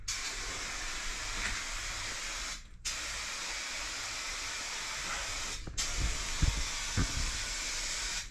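An aerosol can of Rust-Oleum trim paint hisses in a steady close spray on a '72 Blazer hood, with two short breaks between long bursts and a few faint knocks near the end.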